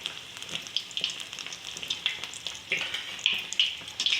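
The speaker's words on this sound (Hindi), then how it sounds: "ब्रेड कचौरियाँ मैंने ऑयल में डाल दी" Bread kachori deep-frying in hot oil, a steady bright sizzle with crackling pops and bursts of spattering, close and continuous throughout.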